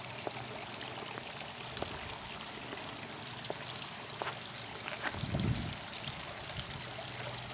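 Water from the waterfalls of a lush tropical pool at a luxury golf estate home flows and trickles in a soft, continuous wash, faint and distant, with a low thump near the end.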